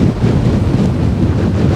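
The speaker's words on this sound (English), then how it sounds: "It's the bloody wind. It comes in big gusts." Strong gusty wind roars and buffets against the microphone at a campsite on the Nullarbor, a loud, rough, continuous rush with no voices.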